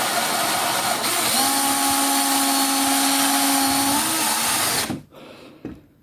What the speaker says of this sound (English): just going to grind the tops out of those, just using a countersink and a hand drill